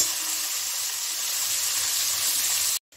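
Potatoes and carrots fry together in a pan of hot oil, giving a steady, loud, close sizzle and hiss that carries on evenly before cutting off abruptly near the end.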